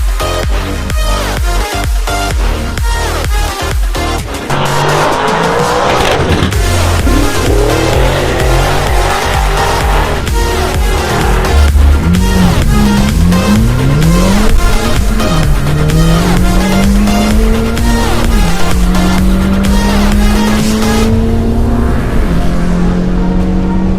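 Engine of a Nissan GTR or Honda Type R drag racing down a quarter-mile strip on drag radials, loud and continuous, with rising revs through gear changes and a sustained roar that builds toward the end of the run.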